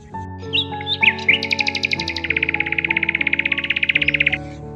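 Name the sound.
birds singing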